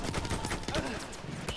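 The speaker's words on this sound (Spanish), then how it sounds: "¡Buah, qué disparo!" Gunfire in a video game comes as a dense, rapid burst of shots, close and loud. It runs through the whole moment with voices talking faintly beneath it.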